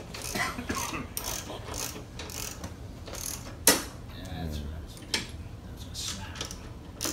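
Bolts are worked loose from motorcycle rear shocks during a Legend shock install, with repeated ratcheting clicks and metallic clanks, a couple of sharper knocks, and faint talk in the background of a garage.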